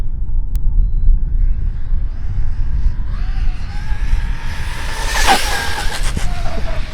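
Traxxas Maxx 4S brushless RC car on a park bash run, its electric whine rising as it approaches, peaking in a sharp close pass, then dropping away, with steady low wind rumble throughout and no talking.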